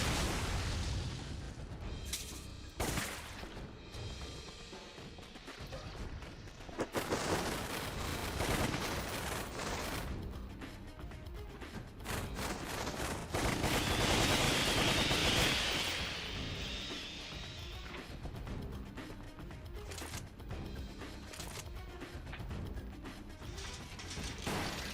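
Grenade explosion and gunfire in Resident Evil 0, with repeated gun bursts and heavy booms across the stretch and a sustained blast swelling in the middle, loud and dense with no talk.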